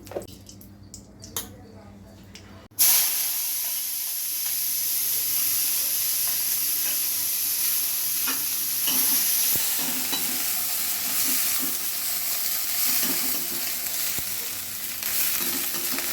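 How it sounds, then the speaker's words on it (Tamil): Mustard seeds sizzle and crackle in hot oil in a pan while cooking a broad bean stir-fry, a steady loud frying hiss with scattered pops lasting throughout after a brief quiet start. "கொஞ்சமாக எண்ணெய் ஊற்றிக்கிட்டு அதில் கடுகு போட்டுக்கலாம்."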